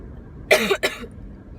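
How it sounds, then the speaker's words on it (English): Two quick coughs, close and fairly loud, the second shorter, with quiet room tone before and after. "Sorry, I keep coughing."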